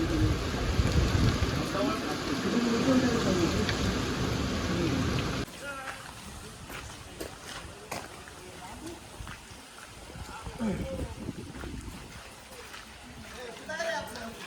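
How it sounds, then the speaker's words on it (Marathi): Heavy rain pours down during a friends' road trip near Lonavala, a dense steady hiss that stays loud for the first five seconds, then drops to a thinner, patchier patter with scattered louder bursts. "इधर गाइस बहुत पाऊस है."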